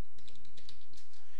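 Keys clatter on a computer keyboard as a command is entered in modelling software, a quick close burst of light taps lasting just over a second.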